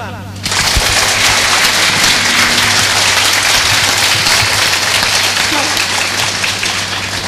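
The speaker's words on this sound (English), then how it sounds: "Biggest clap." An audience bursts into loud, dense clapping after a brief quiet start, sustained and close for several seconds before easing slightly near the end.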